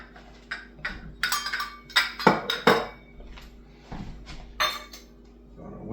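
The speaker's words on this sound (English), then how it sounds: "Gonna whisk that in there a little bit." Whisk clattering against a bowl while mixing chocolate Guinness cake batter, a run of irregular clinks and scrapes with louder knocks, close and with no voices.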